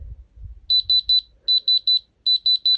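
A Diamond Selector II tester gives its diamond alarm as three groups of three sharp, high electronic beeps in quick rhythm, loud and close, after some faint handling rumble.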